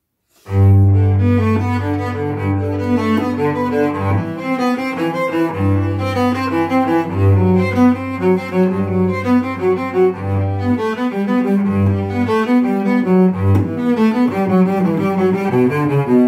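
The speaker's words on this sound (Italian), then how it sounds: "è il violoncello e suona così." A cello plays alone, close and loud, a flowing passage of bowed notes over a deep, resonant low register with regular sustained bass tones and full harmonics, with no talking.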